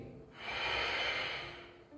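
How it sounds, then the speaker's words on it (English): One long, deep exhale during a relaxation breathing exercise, a soft airy rush that swells and fades over about two seconds, close and quiet with no talk. "Deep breathing."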